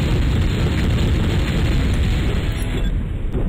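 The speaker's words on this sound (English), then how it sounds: "Airstrike." Airstrike explosion in MechQuest, a loud sustained roaring blast that fills the whole stretch at constant strength before easing slightly at the end.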